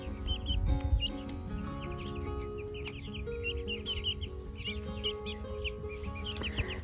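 Five-week-old chicks cluck and peep continuously, a busy overlapping chorus of short calls close by, with steady background noise.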